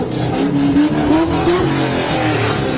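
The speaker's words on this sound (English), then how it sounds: "Sorry about that car." A car roars past loudly near a street protest, its engine revving and rising in pitch as it passes close, with crowd noise underneath.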